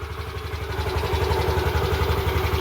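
A repaired scooter engine idles steadily after starting, its even low mechanical pulse running close and continuous with no voices.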